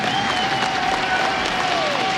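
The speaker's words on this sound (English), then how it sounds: "I want a massive round of applause" Dense, steady applause from a large esports crowd at the ESL One Cologne 2015 Counter-Strike major semifinal fills the space, with faint cheering and a caster's voice under it.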